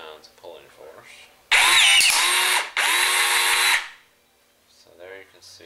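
A PT-4000 power tool installs a blind bolt in two loud, whining bursts about two seconds in total, with a short break between them, and someone speaks before and after.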